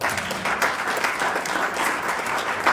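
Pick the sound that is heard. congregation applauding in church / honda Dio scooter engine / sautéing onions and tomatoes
congregation applauding in church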